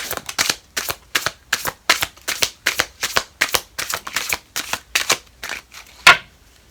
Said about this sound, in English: I'm going to shuffle one more time, and then I'm going to get the Lenormand deck.